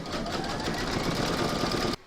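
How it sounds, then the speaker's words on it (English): An embroidery machine stitches vinyl held in a hoop, a loud, fast, steady mechanical whirr and needle clatter that runs nonstop, then cuts off abruptly near the end. "Pop your hoop into your machine and stitch round number 16 to secure it."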